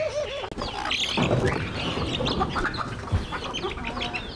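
Chickens, a rooster and a few hens kept in a backyard coop, cluck and call in scattered bursts against steady outdoor background noise, with no one speaking.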